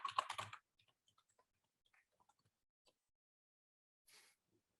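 Typing on a computer keyboard while unlocking a crypto wallet on a computer: a short burst of loud clacks at the start, then scattered soft, sparse key taps and one brief clatter near the end.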